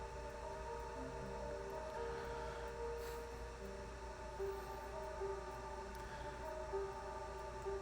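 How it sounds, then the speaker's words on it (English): Faint sirens wail far off behind a steady low hum and background noise, with no talking. "I can hear the sirens."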